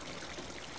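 A spluttering tap in a bathroom sprays water in a short, steady hiss of splashing, faint and continuous with no voices.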